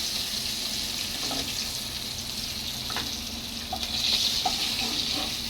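Pangas fish frying in hot oil, its skin crackling: a continuous bright sizzle with scattered sharp pops, growing slightly louder toward the end.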